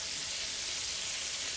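Fish frying in oil in a pan gives off a steady, even sizzle with fine crackling throughout. It sounds close and alone, with no voices.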